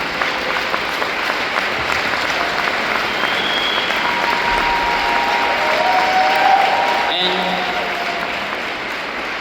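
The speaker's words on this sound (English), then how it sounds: "we really have to give all the Hungarian a very, very big round of applause for your achievement." An audience at a training seminar in Budapest applauds, sustained clapping from a large group that swells slightly toward the end and then tapers, with a few faint vocal sounds mixed in.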